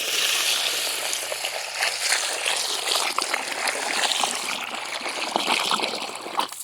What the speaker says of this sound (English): And then I fill it the rest of the way up with water.